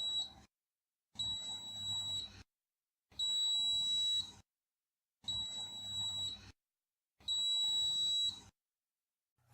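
A lab device for canine progesterone testing sounds five evenly spaced, steady high beeps, each lasting about a second, separated by brief silences.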